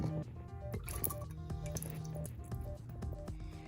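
Expired rubbing alcohol is poured and splashed over an SSD to clean it, a continuous close wet trickle with drips and squishy sloshing throughout.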